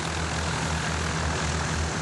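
Light propeller airplane flying during rides for children at an aviation event, producing a steady loud droning engine hum with a constant low buzz and no pauses.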